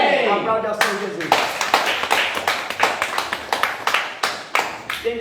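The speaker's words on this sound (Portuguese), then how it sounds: "Aplaude ao Senhor Jesus" Congregation at a Portuguese-language church service applauding to honor Jesus, sharp individual claps in an uneven rhythm that build into a quick patter, with a voice speaking at the start.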